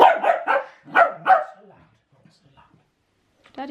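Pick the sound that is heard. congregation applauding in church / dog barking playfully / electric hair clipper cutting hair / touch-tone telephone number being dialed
dog barking playfully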